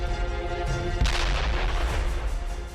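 Heavy artillery and bomb blasts in southern Lebanon: a sharp, loud boom about a second in, followed by a rolling, sustained rumble over steady low background noise, with no voices.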